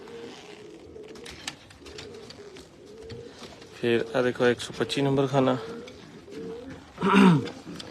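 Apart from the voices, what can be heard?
pigeons cooing in a breeder's loft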